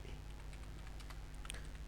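Soft, rapid keystrokes on a computer keyboard while entering a narration in Tally ERP 9 accounting software, a quiet steady patter of clicks with no talking.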